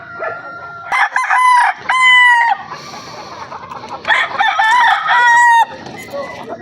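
Gamefowl stag roosters crowing in loud, close bursts, several crows overlapping in quick succession, along with some clucking.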